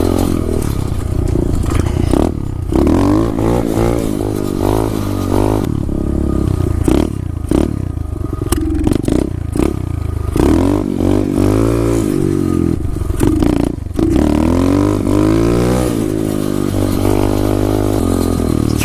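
An SSR 125 dirt bike engine running and revving as it warms up, loud and close, with repeated throttle blips rising and falling over a rough, rattling idle.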